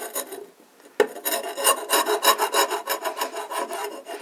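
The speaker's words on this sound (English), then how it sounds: "So what we can do is use a scraper. If you want to do it, you can use a scraper. Again, going with the grain," A hand scraper rasps along antique timber with the grain in a run of close, steady strokes, each a bright scratchy pass, loud and near after a brief pause, with no talk.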